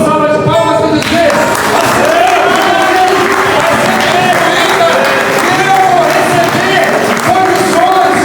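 A church congregation claps and cheers together, sustained loud applause mixed with raised voices and shouting throughout.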